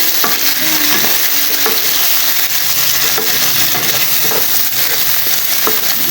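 Tomatoes sautéing in oil in a frying pan for ginisang alamang: steady, bright sizzling with occasional scraping stirs, close and continuous, no talking.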